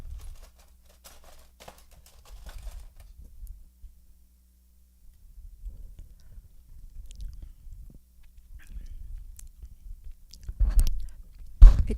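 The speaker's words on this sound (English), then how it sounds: "I'm going to taste it real fast, make sure we have enough of the right ingredients in it" Quiet, soft chewing while tasting a honey mustard sauce, with a few moist mouth sounds spread through the clip and a louder burst near the end.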